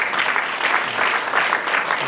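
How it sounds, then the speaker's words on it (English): Audience applause for elected officials at a stadium presentation, dense and loud clapping from a crowd throughout. "Give our elected officials a round of applause."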